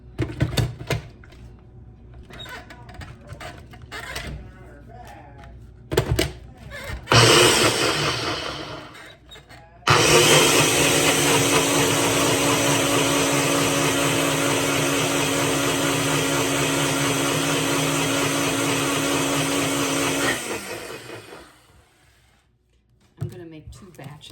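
A Ninja blender runs with a loud, steady motorized whir in a kitchen for about ten seconds, then winds down, with brief speech and clatter before and after.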